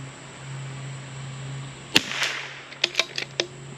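A single sharp, close report from a CZ 457 MTR rifle firing SK match ammunition, followed by a few fainter clicks and knocks as the bolt is worked.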